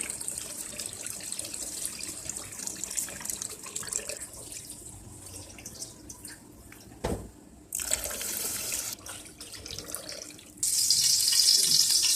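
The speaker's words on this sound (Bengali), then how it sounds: "পানি না বের হচ্ছে এরকম করে করে চাউলটাকে কচলাতে হবে বারবার" Rice being rinsed and rubbed by hand in water for ilish pulao, soft sloshing and trickling with a brief tap rush midway and louder running water at the end, no talk.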